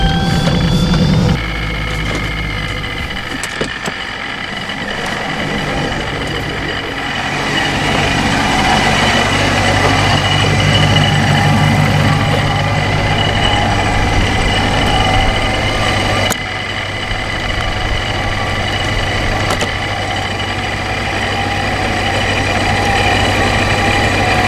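A car engine fitted with a Procharger D1SC supercharger runs steadily for the whole stretch, a loud continuous mechanical drone with a rattling, gravelly clatter over a low engine hum and no talking.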